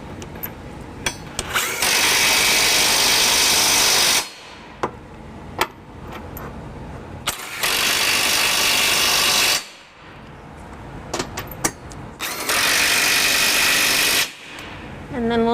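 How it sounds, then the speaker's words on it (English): Three loud bursts of an electric drill with a deep 22mm socket whirring as it snugs trailer hitch bolts on a 2014 Acura MDX, each lasting a couple of seconds, separated by quieter pauses with light clicks and taps. "we're going to use our electric drill and a deep 22mm socket to just snug them down"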